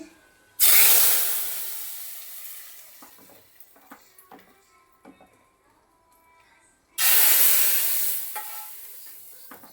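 A hot tempering (tadka) tipped into a pot of sambar bursts into a loud, close sizzle twice, each roar fading into a softer crackle, with light clinks and stirring in between.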